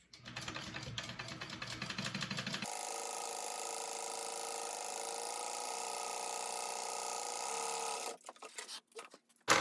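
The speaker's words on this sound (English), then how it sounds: "I'm gonna baste these 2 layers together as well" A sewing machine bastes two fabric layers together for a shoulder bag, a rapid close mechanical stitching whir running steadily for several seconds after a brief start, then stopping with a few clicks.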